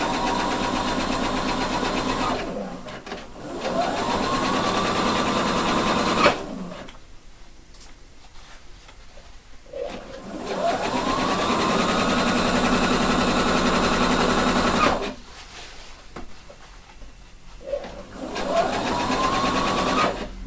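A sewing machine stitches a hood seam in bursts, its rapid whirring runs starting and stopping three times with quiet pauses between, close and moderately loud.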